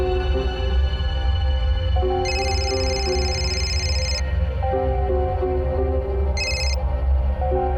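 In a crime drama scene, a telephone rings in two bright electronic bursts, a long one and then a brief one, over loud, steady background music.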